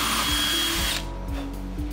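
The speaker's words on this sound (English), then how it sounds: "Once you got your hole drilled" A power drill with a 1/2 inch bit bores through a 1/2 inch piece of drywall in a sample jig, giving a loud, steady high whine for about a second, then the motor winds down amid a few brief mechanical clicks.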